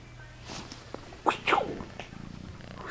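A domestic cat purrs close up for a few seconds, with short louder bursts of vocal sound partway through and a soft rhythmic rumble at the end.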